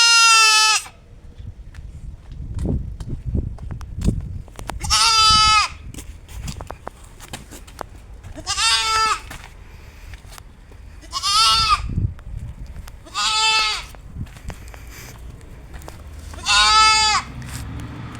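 Goats and young kids bleat five times at spaced intervals, each cry loud, wavering and close, with quiet shuffling and rustling between the calls.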